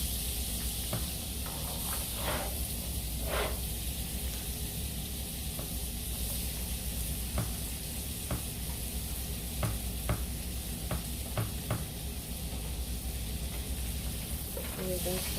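Chopped onions sautéing in butter over medium heat for shrimp cakes give a steady, close sizzle with occasional soft stirring scrapes; faint voice sounds surface now and then.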